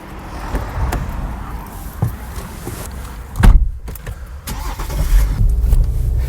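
A car heard from inside, with a steady engine and road rumble throughout, a few thumps and clicks, and a louder passing swell midway.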